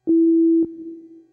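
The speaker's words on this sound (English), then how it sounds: "At the moment, we can hear the default sound, which is a pure sine wave." Default patch of a MiniDexed DIY synthesizer, a pure sine wave: a steady, clean mid-low tone played as two notes in quick succession, the second held and slowly fading, with no other sound.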